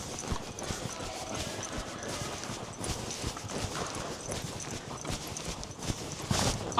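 A horse trots steadily, hooves clip-clopping in a fast continuous rhythm, close and fairly loud throughout.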